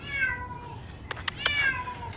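Trapped in a drained pool, a scared cat lets out two clear, drawn-out meows, separated by a few sharp clattering knocks.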